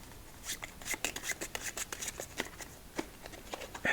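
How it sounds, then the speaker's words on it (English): Rapid, crisp riffling and flicking of playing cards being shuffled, soft and close, in repeated quick bursts with no voices. "Let's give this deck 2 more shuffles"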